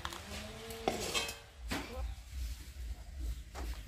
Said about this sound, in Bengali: তো এইভাবেই আজকে হাতা দিয়ে নামিয়ে নিচ্ছি তরকারিগুলো